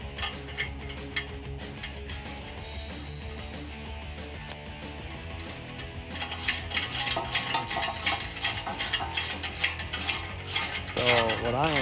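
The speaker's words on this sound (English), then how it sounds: "I am taking this clamp all the way apart, just so that I can get to the exhaust tip" A clamp is taken apart on the exhaust of a 2015-2022 Dodge Challenger V8 fitted with a Pypes Pype-Bomb axle-back, heard as close, rapid ratchet clicks that grow louder and busier partway through, with no talking.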